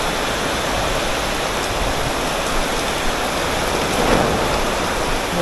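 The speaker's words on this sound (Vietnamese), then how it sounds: "trời mưa dã man hay anh ha, mưa lớn quá." Heavy rain pours down in Nha Trang, a loud, dense, unbroken roar of water hitting surfaces, steady throughout with a slight swell near the end and no talk.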